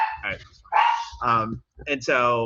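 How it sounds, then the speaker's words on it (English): A pet dog barks a few times in a home setting, sharp yelps breaking in between and under a man's ongoing conversational speech. "I think that's my dog."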